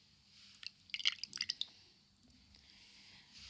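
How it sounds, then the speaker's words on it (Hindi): Lemon juice stirred into mustard oil with a spoon in a small bowl, giving a brief close cluster of wet clinks and squishy drips followed by quiet, without talk. "अब हम सरसों के तेल में लेमन के जूस को मिक्स करेंगे।"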